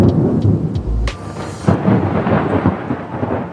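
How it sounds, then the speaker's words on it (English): A heavy thunder rumble rolls through steady rainfall, with a sharp crack partway in and continuous rain hiss filling the background, no voices present. "Still, hear that distant thunder."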